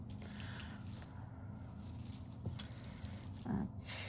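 Metal jewelry chains and bracelets jingling and clinking softly as they are handled and untangled, faint close-up rattles with a louder stretch near the end.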